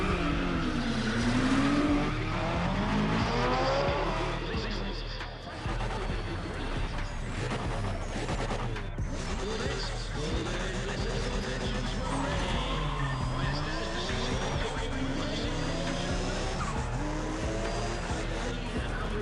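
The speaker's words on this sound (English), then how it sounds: "I like the turbo noise." A turbocharged race car in Need for Speed ProStreet, its engine revving and whining through gear changes with turbo whistle and tire squeals, loud and continuous throughout.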